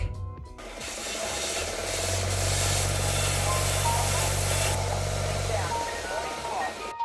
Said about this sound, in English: That's how much is going in, so that's how much I need to sand down.